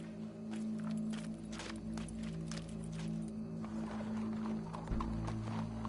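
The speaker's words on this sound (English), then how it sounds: "Go brush that horse, officer." Hooves clip-clop steadily on the ground in Red Dead Redemption 2, a horse walking at a quiet, even pace under a low background drone.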